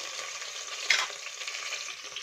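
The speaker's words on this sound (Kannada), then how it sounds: "ಈಗ ನೋಡಿ ಚೆನ್ನಾಗಿ ಫ್ರೈ ಆಗ್ತಾ ಇದೆ ಮಸಾಲೆ" Masala and sliced onion fry in a pan for peas pulao, giving a continuous close hiss and sizzle with one brief stirring scrape partway through.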